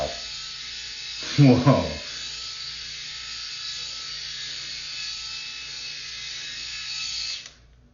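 A Groomie electric head shaver runs across a man's scalp, a steady close buzzing motor hum throughout, with a short exclamation from him early on before the motor cuts off at the end.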